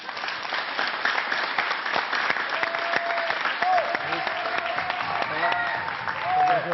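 A studio audience applauds comedian Jamel Debbouze with sustained dense clapping, loud and steady throughout, joined by scattered cheers.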